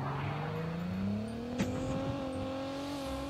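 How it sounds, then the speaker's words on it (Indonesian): A car engine revs in a video game, a steadily rising whine that climbs in pitch over a few seconds, moderately loud with no talking. "Kayak ada suara mobil loh."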